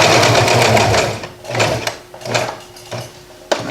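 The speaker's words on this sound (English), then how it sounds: "I'm going to pivot this now and sew straight up here. Reverse stitch it." A sewing machine stitches an upcycled garment in loud, close bursts of rapid mechanical whirring, stopping and restarting several times.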